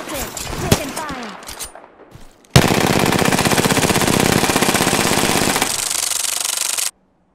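Gunfire in the video game Apex Legends, first a few scattered shots, then a loud, sustained rapid burst of automatic fire lasting about four seconds before cutting off abruptly.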